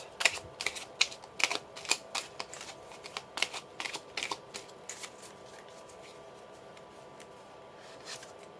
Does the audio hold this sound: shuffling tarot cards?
yes